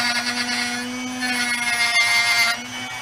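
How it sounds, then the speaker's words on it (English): The motor of a Drill Doctor 350X drill bit sharpener hums steadily while its diamond wheel grinds a bit, a high tonal whine with light rasping that shifts slightly in strength. "You don't want to tear up the electric motor and tear up that diamond wheel."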